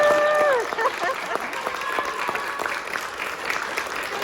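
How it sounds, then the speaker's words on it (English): Audience at a Missoula Children's Theatre show applauds for tour partner Charlotte, a steady wash of clapping filling the room, with brief voices or cheers near the start. "Let's have a big round of applause for Charlotte"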